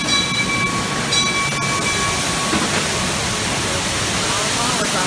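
Steady rumbling roar of an amusement ride train, the Calico Mine Ride, running on rails, with a faint high squeal early on, continuous and fairly loud throughout.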